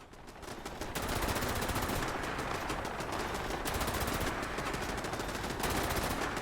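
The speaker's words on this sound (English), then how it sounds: "the turret over there is up so high it can shoot up there as well." Turrets in Fallout 76 fire a sustained, dense stream of rapid gunshots that runs almost the whole time with a brief pause, loud and steady, no talk.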